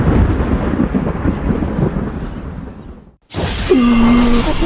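Thunder rumbling with rain in a stormy video game scene, a loud continuous roar that drops to a brief silence, then returns with a whooshing burst and a sustained tonal effect.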